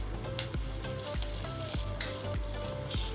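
A close, steady crackling sizzle of leaves frying in hot oil, with sharp spatters popping over a low background hum and no speech.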